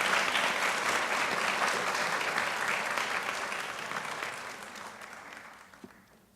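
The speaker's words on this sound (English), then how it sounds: "Let's all give Michaela and Bethany a big round of applause" Audience at a college honors night applauding, a full wash of many hands clapping that gradually fades away toward the end.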